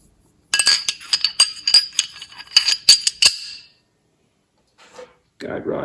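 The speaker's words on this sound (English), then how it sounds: "We're going to drop in the 357 SIG barrel." Metal parts of a SIG P250 pistol clinking and clicking as a .357 SIG barrel is dropped in during reassembly, a quick series of sharp close clinks followed by a pause and faint handling.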